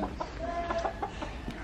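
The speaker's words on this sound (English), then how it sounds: "Look at the chicken." A chicken clucks in a short run of close, fairly loud clucks at a quick, uneven rhythm, with no talking.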